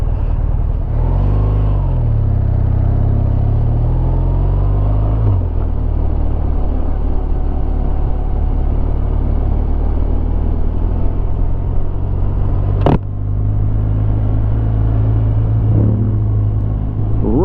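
BMW R1200RT motorcycle engine riding along Highway 49 toward twisty roads, a loud continuous rumble with a climbing rev early on, a sharp knock near the end, and wind noise throughout.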